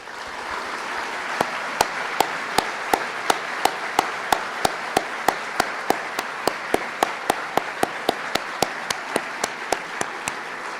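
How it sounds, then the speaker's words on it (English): Audience applause at a farewell ceremony for a Secretary, a steady dense wash of clapping with sharp regular clicks running through it, sustained and even for the whole stretch. "Let's give them all a round of applause."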